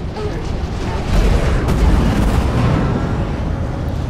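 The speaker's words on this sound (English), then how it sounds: "we're gonna keep the trigger down and see if we overheat. I really don't think that we're going to, because these are ballistic cannons" Tarantula ballistic cannons in Star Citizen fire continuously with the trigger held down, a dense, sustained rumble of rapid booming shots that grows louder after the first second and keeps pounding steadily to the end.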